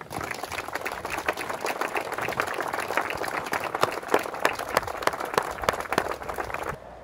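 Sustained applause from a ceremony crowd for gendarmes at a 18 June commemoration, dense steady clapping throughout, fairly close, ending abruptly.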